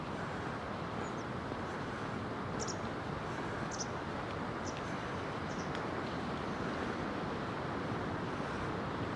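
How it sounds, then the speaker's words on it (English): Steady wind rushing outdoors in Kato Paphos, a constant broadband roar buffeting the microphone with no letup, a few faint high chirps briefly poking through. "A lot of wind about at the moment. You can hear it blowing through the"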